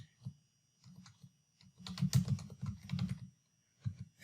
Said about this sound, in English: I'm going to type in strategic plan.